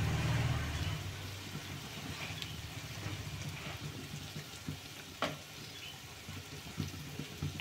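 Chili powder and ginger paste fry in a pan for egg biryani, a steady close sizzle with scraping stirs and occasional clinks of the spoon against the pan, no voices.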